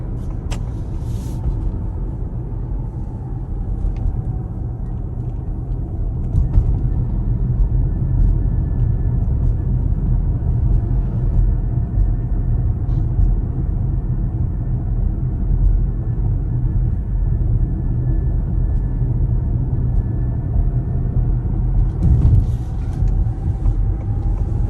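A Ford Mustang Mach-E electric car cruises along a busy highway, steady loud road and tire rumble filling the cabin with a faint high whine and passing traffic, no talking.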